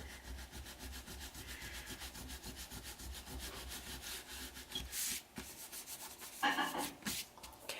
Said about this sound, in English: If you rub it, you can remove the adhesive if you rub it enough.